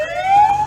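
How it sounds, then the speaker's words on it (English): A police siren from a movie scene wails in one short, loud rising sweep, close and clear with nothing else over it. "he hears the police siren and immediately jumps back"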